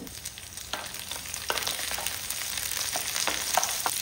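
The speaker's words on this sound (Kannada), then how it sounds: "ಒಂದು ಪ್ಯಾನಿಗೆ ಸ್ವಲ್ಪ ಎಣ್ಣೆ, ಈ ಎಣ್ಣೆಗೆ ಸ್ವಲ್ಪ ಬೆಳ್ಳುಳ್ಳಿಯನ್ನು ಸಣ್ಣದಾಗಿ ಕಟ್ ಮಾಡಿ ಹಾಕ್ತಿದ್ದೇನೆ" Chopped garlic sizzles steadily in hot oil in a pan for a fish masala, with a constant crackling hiss broken by a few sharper pops and spatters, close and fairly loud, with no talking.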